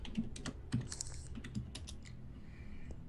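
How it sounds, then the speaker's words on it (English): Fingers tap quickly on a computer keyboard during an online tabletop gaming session, with irregular bursts of close, faint clicks and short pauses between. "I was typing that in Skype."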